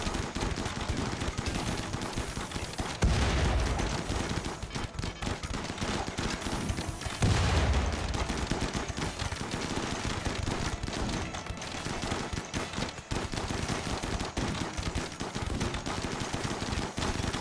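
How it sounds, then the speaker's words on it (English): Dense, sustained gunfire pours in during a video game battle on a map made entirely of shallow water, loud and relentless with a couple of heavier booming hits. "That is a lot of fire coming at us."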